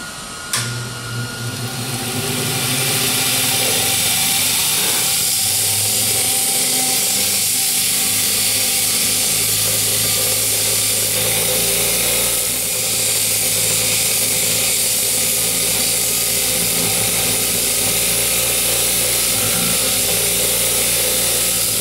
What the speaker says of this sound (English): you want to grind that flat so the horse's foot is flat with the shoe